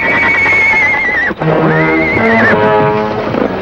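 Spooked horses neigh loudly and close by, one long shrill whinny followed by a second quavering neigh, with faint hoof shuffling and no talk.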